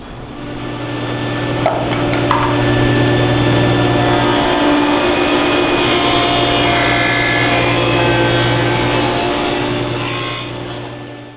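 Power saw cutting wood pieces for boxes against a stop block: a loud, steady motor whine with a low drone, rising as the blade bites in and holding through a long continuous cut, with faint knocks at the start.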